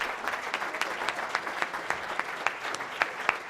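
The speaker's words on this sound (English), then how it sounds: "Give yourself a big round of applause" Audience applause at a leadership summit in Toledo, a steady dense patter of many hands clapping with a few sharper claps standing out, moderately loud and continuous throughout.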